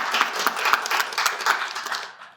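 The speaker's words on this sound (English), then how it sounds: "An applause, please." Applause from a debate audience, a dense patter of many hands clapping at moderate distance, steady and then tapering off near the end.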